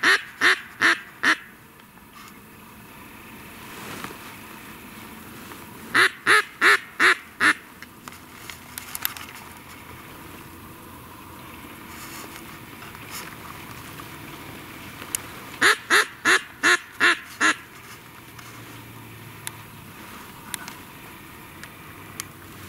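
Ducks circling hunters quack in three distinct bursts of rapid, evenly spaced calls, fairly close and loud, separated by quiet stretches of faint outdoor background.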